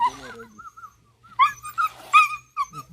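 Dogs whimper and yip in a series of short, high, close whines with brief pauses, and a faint low hum runs underneath.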